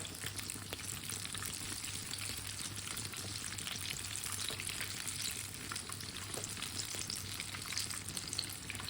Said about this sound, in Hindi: ये वाली साइड से भी 2 मिनट के लिए पकने देते हैं।